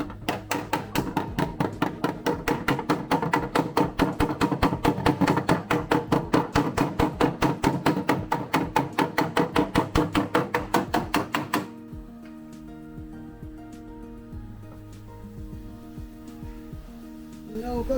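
Steel hammer striking the steel body panel of a Toyota AE86 under repair, a fast, steady run of close, loud metallic blows for about eleven seconds before the hammering stops and a quieter stretch follows.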